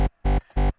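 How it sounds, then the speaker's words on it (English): Three short, loud bass notes with a buzzy, harmonically rich tone, played alone with brief gaps between them. "so the bass sounds like this"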